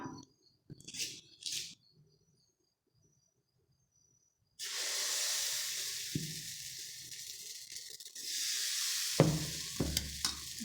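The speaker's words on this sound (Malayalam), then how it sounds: "നമുക്ക് അപ്പം കോരി ഒഴിക്കാം." Appam batter hits a hot pan with a sudden loud sizzle that keeps hissing steadily, broken by a few scraping clinks near the end.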